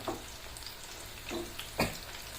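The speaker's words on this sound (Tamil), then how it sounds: "நான் உங்கள் கூட பேசிக்கிட்டே கலக்கி விட்டுக்கிட்டே இருக்கிறேன்" Broiler chicken 65 pieces fry in ration palm oil under a constant sizzle, while a spoon stirs through the pan in three distinct scraping strokes, close up and without speech.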